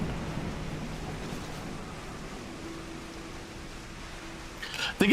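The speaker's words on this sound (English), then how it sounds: "And it's bloody raining again." Steady rain hisses with a faint low rumble in Final Fantasy XIV Heavensward, a broad wash of noise that holds evenly before a brief louder burst at the very end.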